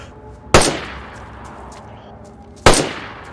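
Rifle gunfire in the survival video game DayZ, two loud, sharp shots about two seconds apart, each followed by a short echoing tail, with nothing else in between.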